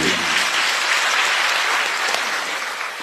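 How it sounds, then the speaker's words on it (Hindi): Loud, vigorous applause from a crowd welcoming a minister at a satsang religious gathering, a dense, continuous wash of clapping that stays strong throughout the few seconds, with no speech over it. "एक बार जोरदार ताली बजाकर इनका अभिनंदन किया"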